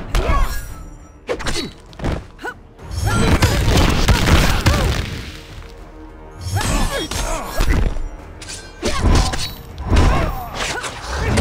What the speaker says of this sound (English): I think one more rocket and he's dead.